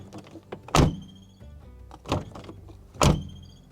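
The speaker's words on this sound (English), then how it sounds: "not ideal getting that loud squeaking noise" A Jeep Gladiator diesel pickup's bed rack and roof tent mount squeak loudly as the truck moves, giving three sharp creaking bursts spaced about a second apart over low road rumble.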